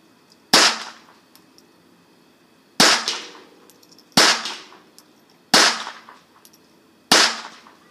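Five sharp, loud gunshots from a cycling gun crack out one at a time at uneven intervals of about one to two seconds, each followed by a quick decaying echo outdoors.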